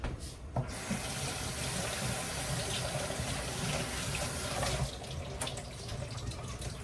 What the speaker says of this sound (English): let me wash off my hand